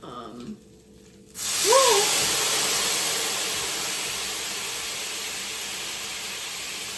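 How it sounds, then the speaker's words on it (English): After a brief quiet moment, a loud burst of sizzling hiss erupts as coconut milk hits hot oil in a pan, spattering and continuing steadily, with a short vocal exclamation near its start. "It is spraying hot oil on me."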